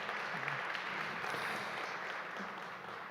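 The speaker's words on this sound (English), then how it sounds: "Another round of applause." Audience applause after a keynote at an awards ceremony, a steady wash of clapping from a large crowd at moderate distance, continuous through the clip with a faint voice low underneath.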